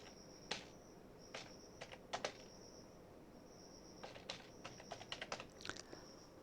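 Fingers tap on a computer keyboard while typing in Microsoft Word, with short bursts of quiet keystrokes separated by pauses, close up and soft, with no talking.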